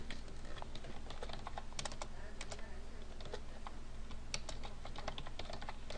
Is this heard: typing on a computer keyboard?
yes